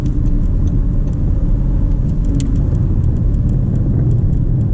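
Suzuki Swift driven fast on the Nürburgring, heard from inside the car: a loud, constant engine and road rumble with steady tyre and wind roar throughout, with faint ticks on top and no speech.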